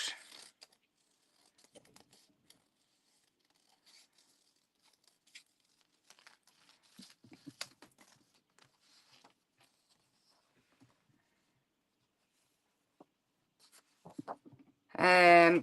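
Scissors cut pieces of paper at a crafting table while a coin bound journal is being made, giving faint, scattered snips and paper rustles across quiet stretches, with a louder crinkling burst at the very end.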